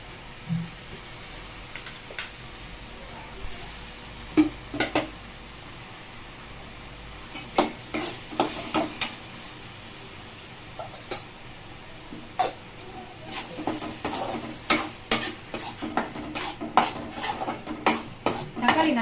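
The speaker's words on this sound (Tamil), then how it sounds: "இப்போ வெங்காயம் நல்லா வதங்கணும்." Sliced onions sautéing in a pan for a mutton lung curry are stirred with a metal spoon, giving scattered clinks and scrapes against the pan that grow denser toward the end, with no talking.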